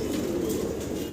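A male Bantinet pigeon calls in a loft while dancing on a clay nesting pot, giving a steady, close, low throaty coo that holds for about a second and then cuts off.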